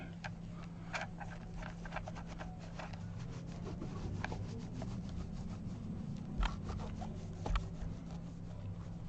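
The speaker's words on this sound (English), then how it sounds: "I'm using good old Dunlop 65 polish." A guitar body gets polished with Dunlop 65 polish, soft close rubbing and wiping strokes with faint ticks and squeaks, quiet and steady, no talk.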